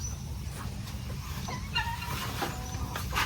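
Heritage chickens clucking inside a coop under construction, with a Muscovy duck pen next door: a few short, close clucks and calls rise briefly over a steady low rumble of background noise.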